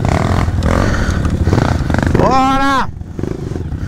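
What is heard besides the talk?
trail motorcycle riding, shifting gears with a bad clutch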